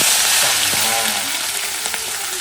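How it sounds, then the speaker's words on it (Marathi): Onion dropped into hot oil with whole spices, setting off a loud, dense sizzle that settles slightly, with a few stirring knocks, heard close and alone without talk. "आणि माझा इकडे आलेला आहे तेल आणि त्या तेलात टाकतो मी कांदा"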